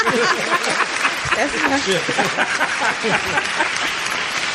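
An audience applauds during a hosted conversation at a free haircut event for Black men: a steady, dense patter of clapping lasts throughout, with voices and some cheering mixed in.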